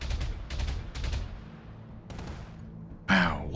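Turret gunfire in the BattleTech video game: clusters of rapid shots in bursts early on, a fainter volley near the end, then a louder sharp impact at the close.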